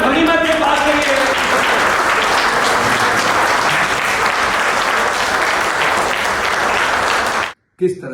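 An audience gives sustained, loud applause to welcome a newly elected committee, a dense wash of clapping that holds for over seven seconds before cutting off abruptly.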